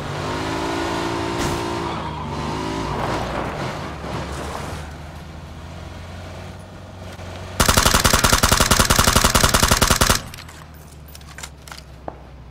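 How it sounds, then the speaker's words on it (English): A vehicle's engine revs and fades while driving in the battle-royale video game PUBG, followed by a sharp burst of rapid gunfire in the middle and quieter engine rumble afterward. "Chasing a car."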